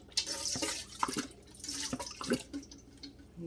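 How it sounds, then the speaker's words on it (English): Soy sauce poured from a bottle into a container, an uneven, close trickle and glugging splash with small drips, fairly quiet and alone. "I'm going to pour my soy sauce in here in this container."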